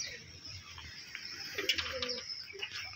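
Racing pigeons in a loft give soft, low, repeated coos with a few faint chirps over a quiet background.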